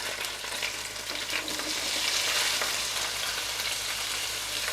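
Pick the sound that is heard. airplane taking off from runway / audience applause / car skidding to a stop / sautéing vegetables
sautéing vegetables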